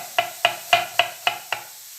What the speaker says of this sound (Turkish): Soğanı da istediğim gibi ince ince doğrayacağım.